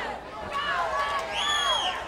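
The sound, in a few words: wrestling crowd cheering wildly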